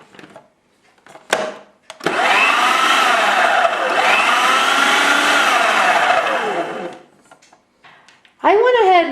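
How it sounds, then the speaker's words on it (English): A food processor spins a very cold flour mixture for pie dough, a loud steady whirring motor run of about five seconds after a brief start, then another short burst at the end. "I'm going to add that very, very cold flour mixture into the food processor. I'm going to give this a spin just so that it mixes well."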